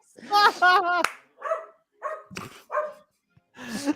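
A dog barks in a quick burst of several yaps, then a few more scattered barks follow with short pauses between, close and fairly loud.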